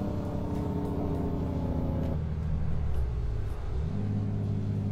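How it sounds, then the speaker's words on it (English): A truck engine in American Truck Simulator drones steadily, then drops into a deeper rattling engine brake rumble before the tone settles again, loud and close. "the sound of the engine brake."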